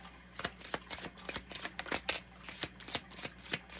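Oracle cards being shuffled by hand, close and quiet: a quick, even run of crisp riffling snaps repeating steadily over a faint background hum.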